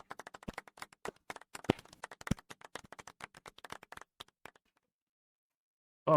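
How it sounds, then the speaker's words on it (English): Scattered light, uneven hand claps from a small group at a Kingdom Death: Monster board game session, a soft golf clap of sparse taps fading out into silence after about four seconds. "It should be golf clap"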